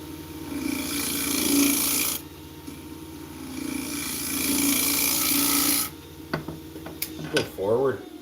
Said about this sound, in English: Should go forward when you're trying to cut on a lathe.